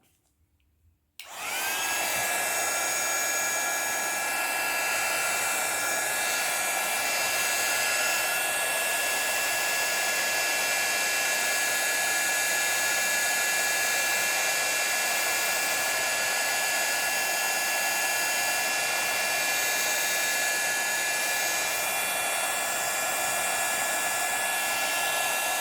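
A hair dryer switches on after a moment of silence and runs loud and steady with a constant whining hum, drying a scrapbook photo album page, the blowing continuing unbroken to the end.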